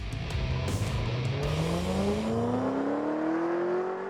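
An HSV GTSR W1 with 474 kW revs hard and climbs steadily in pitch as it accelerates on a track, loud and close, with a faint tire squeal early on.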